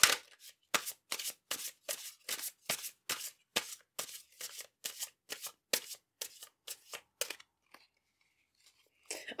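Tarot cards being shuffled by hand, a close, quiet series of about fifteen evenly spaced riffling swishes, then a pause and a soft final card sound.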